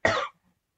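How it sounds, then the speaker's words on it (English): A single harsh cough from an adult, close and loud, one short burst lasting about a quarter second and followed by silence. "I have to cough."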